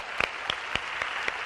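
An audience applauds the maestro Roberto Pregadio at an Italian television variety show. The clapping is dense and steady across the brief moment, with a few sharper claps standing out.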